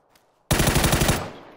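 A sustained burst of rapid automatic gunfire in the PUBG battle royale game, loud and close, rattling for under a second before tapering off, with no talk over it.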